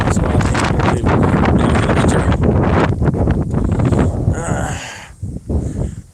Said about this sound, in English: it's windy out, man.